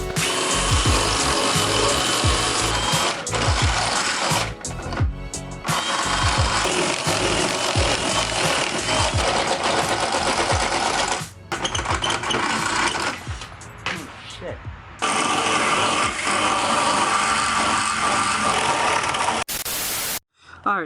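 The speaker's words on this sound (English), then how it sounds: "I'm gonna go ahead, drill this open, and then go ahead and try to put her in." Power drill boring out a seat mount in a G35 drift car while fitting Bride racing seats, loud whining bursts of drilling with brief pauses and sharp stops, close up in a garage.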